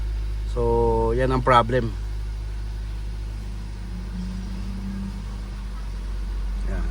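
A car idles with its check engine light on, giving a steady low engine hum throughout while someone speaks briefly near the start.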